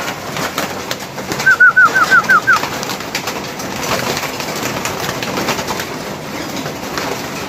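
A quick series of about seven soft coos from a pigeon, rhythmic and close, over a noisy outdoor background with clatter.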